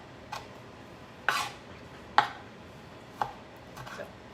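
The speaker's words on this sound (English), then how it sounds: "it will chop into these soft veggies really easy" Ceramic knife chopping soft vegetables such as zucchini and tomato, giving four or five crisp, separate cuts on a board at an uneven pace, each with a quick sharp onset, heard close and alone.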